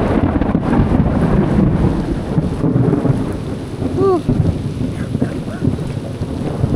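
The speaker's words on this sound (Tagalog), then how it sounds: "Pag gantong umuulan na malakas mga man, automatic yan." Heavy rain pours steadily on a farm during the rainy season, with thunder rumbling through the downpour and wind buffeting the microphone.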